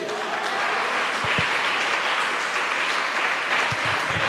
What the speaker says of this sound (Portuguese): Aplauso para Ele.